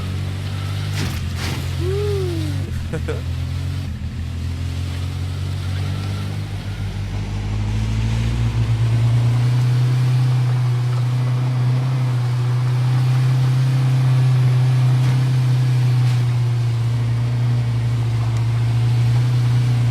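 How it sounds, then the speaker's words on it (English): A car driving in the survival game H1Z1 gives off a loud, steady engine drone that shifts in pitch early on and then holds a constant heavy hum, close and continuous, with no speech over it. "I know that this car is crazy loud too."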